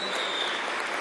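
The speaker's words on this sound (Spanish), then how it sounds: "Un aplauso para Eduardo, ¿vale?" A studio audience claps continuously for the whole second, a thick, uniform wash of applause with no voices above it.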